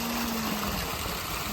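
Mountain water flowing in a steady, even rush, close and continuous with no other sounds, heard only briefly.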